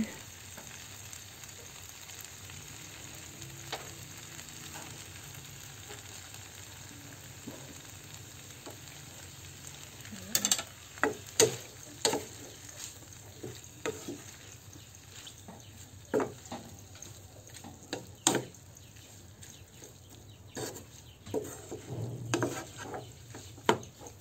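Kangkong with pork belly and tofu frying in a pan gives a steady sizzle, broken from midway by repeated clatters and scrapes of stirring, close and moderately loud with no talk.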